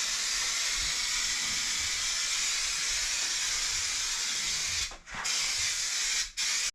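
Steady close hiss of a spray gun coating the interior of a 1972 Chevrolet Blazer, running almost continuously with two brief breaks as the trigger is released, and no voices.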